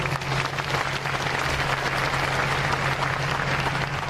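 Sustained audience applause for coast guard staff at a ceremony for new patrol vessels, dense, even clapping from a large crowd for the whole four seconds, with no talk over it.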